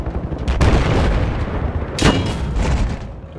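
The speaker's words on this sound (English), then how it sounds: "Who the heck is shooting at me?" Gunfire in the video game Battlefield 4, with loud sharp booming shots, two heavy reports standing out against a constant rumbling battle background and no talking.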